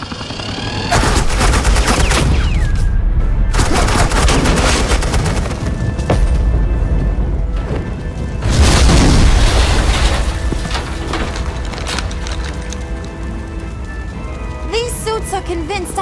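Suppressing gunfire and explosions in the Batman: The Enemy Within Telltale video game, a dense, loud continuous barrage of rapid shots and booming blasts with a brief voice near the end.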